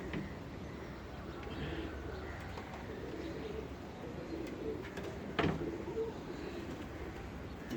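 Pigeons cooing faintly among a loft of five birds kept on a Punjabi rooftop, soft low calls blending into a steady murmur of ambient noise with a brief sharp knock near the end.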